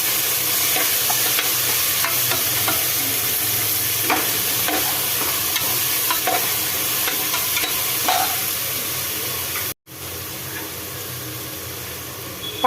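Chopped tomatoes with green chilli and ginger-garlic paste sizzle steadily in hot oil while a spoon stirs and scrapes the pan, close and continuous, with a brief dropout near the end.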